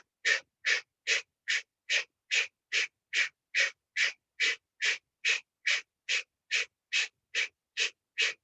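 Rapid rhythmic mouth exhalations during 26&2 hot yoga breathing, about twenty sharp, evenly spaced breathy bursts in roughly eight seconds, close and clear with no talking.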